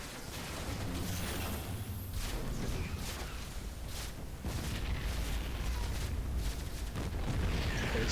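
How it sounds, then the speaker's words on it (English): A base is destroyed in the StarCraft II video game, with a continuous roar of overlapping explosions and booming blasts filling the whole stretch at a steady, loud level. "The base gets destroyed"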